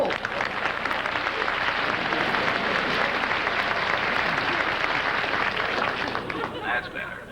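A television studio audience for a variety show gives loud, sustained applause of dense, continuous clapping that fades slightly at the end.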